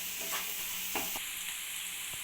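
Vermicelli upma being stirred in a pan with turmeric powder, a faint low sizzle punctuated by a few soft scraping knocks of the spoon against the pan.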